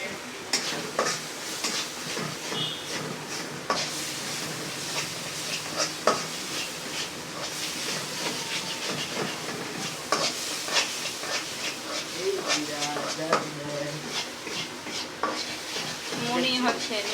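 Noodles with Maggi masala are stirred in a pan, a steady sizzle running under irregular scraping strokes for the whole stretch, with scattered clinks of utensil on metal and no talk.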